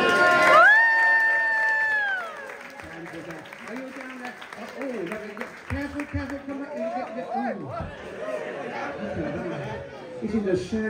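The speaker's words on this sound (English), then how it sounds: "Let's give it a big cheer." An audience of children and adults at a circus show in Blackpool cheers, whoops and claps for about eleven seconds after a squeaky balloon trick, a lively, moderately loud mass of voices with no single speaker standing out.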